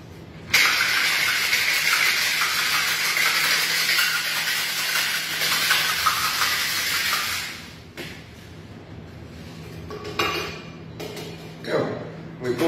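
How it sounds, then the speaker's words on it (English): A mixed Caipiroska is poured from a cocktail shaker into a glass, a steady, close liquid gush lasting several seconds, followed by a few short clinks and splashes. "We pour the whole out into the glass there."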